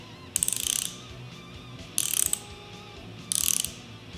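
Socket wrench ratchet clicking in three short bursts of rapid metallic clicks, close and loud, separated by quiet pauses, with no talk.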